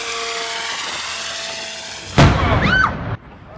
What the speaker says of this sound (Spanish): a causa de una fuga de gas, se produce una fuerte explosión